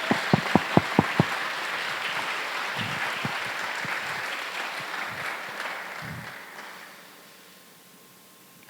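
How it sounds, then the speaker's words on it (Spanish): A church congregation bursts into loud, sustained applause, a dense wash of clapping with a few sharp claps at the start, slowly fading away near the end. "Denle un fuerte aplauso al Señor"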